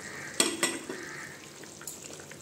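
Fried fish dropped into boiling gravy for a Bengali chalta fish curry, two sharp splashy hits followed by a faint bubbling simmer and a soft later clink, fairly quiet with no talking.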